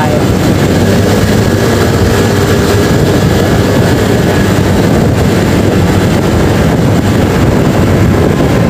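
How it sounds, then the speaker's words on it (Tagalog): Low-flying airplane passing overhead near a railway station and flyover road in the Philippines, a loud sustained roar of jet engines masking everything around it, steady and close throughout. "Ang bababa ng mga aeroplano dito, no?"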